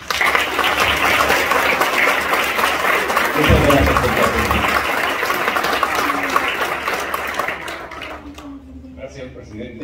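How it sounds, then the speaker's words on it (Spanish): Audience applause at a civic ceremony in a Casa de la Cultura setting, broad sustained clapping at loud level for about eight seconds, mixed with talk, then fading out near the end. "para quien pedimos un fuerte aplauso."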